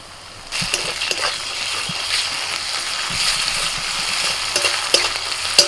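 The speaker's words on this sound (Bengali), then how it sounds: "এবার দিয়ে দিচ্ছি আদা রসুন বাটা" Ginger-garlic paste sizzles in hot oil with fried onions in a pan, a steady crackling hiss broken by repeated scrapes and taps of a spoon stirring the mixture; no talking.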